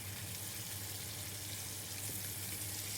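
Parboiled onion and greens frying in olive oil give off a faint, steady sizzling hiss that runs unbroken throughout, over a low background hum.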